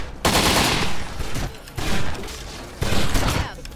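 Three heavy bursts of video game gunfire in Postal III, each a dense roaring volley lasting about a second, separated by short gaps.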